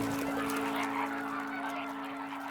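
A greater flamingo colony in the Comacchio lagoons of the Po Delta calls in a continuous honking, goose-like chorus, dense and unbroken with many birds overlapping at moderate distance.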